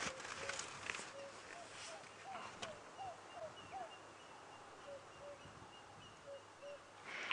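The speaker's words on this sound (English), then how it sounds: "there's a very noisy African cuckoo calling there" An African cuckoo calls repeatedly on a safari drive, faint rising notes in a loose series over quiet outdoor background with soft rustling.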